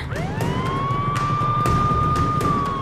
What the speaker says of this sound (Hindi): पहले एम्बुलेंस को रास्ता दो।